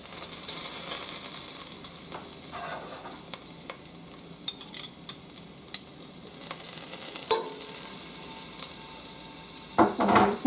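Garlic and onion sautéing in a pot for baked potato soup, a steady soft sizzle with scattered sharp clicks and a few louder stirring scrapes, close and unaccompanied by voices.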